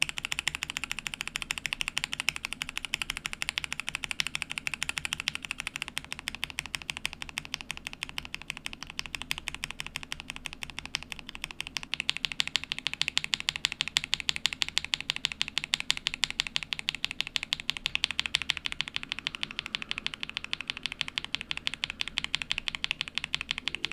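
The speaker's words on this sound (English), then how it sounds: "let's do a a quick sound comparison of a single switch looped and unlooped with Krytox Stow 5 Grade 0" A single Akko CS mechanical keyboard switch, tested lubed and unlubed with Krytox grade 0, is pressed over and over in a fast, even loop of crisp clacks. The clicks are close and steady, with no voices.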